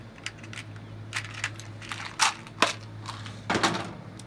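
Sharp metallic clicks and snips from wiring a wire nut onto cut low pressure switch wires on an air conditioner unit, a few irregular close clicks over a steady low electrical hum.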